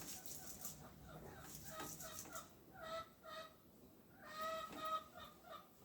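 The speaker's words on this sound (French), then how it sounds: "Ah, ça, c'est mes poules. Vous entendez mes poules?" Hens cluck and chatter in short bursts, fairly faint and a little distant, with a few louder squawks toward the end.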